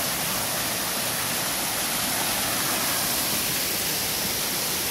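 Loud, dense rushing water roars continuously from a canal lock ground paddle on the Leeds Liverpool Canal, a steady broadband torrent close by with no pauses or voices.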